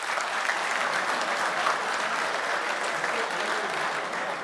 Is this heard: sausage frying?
no